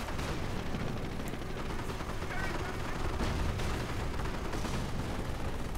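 Small arms gunfire rattles through a WWII tank video game battle as a dense, continuous wash of shots and combat noise, with a commentator talking over it.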